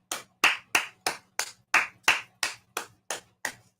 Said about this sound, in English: And I'm going to give you a round of applause.